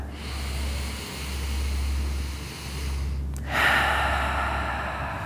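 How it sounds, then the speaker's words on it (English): A slow deep breath during a hip stretch: a soft, drawn-out inhale followed by a sharper, louder exhale near the end, heard close and alone over a low steady hum. "One more big deep breath."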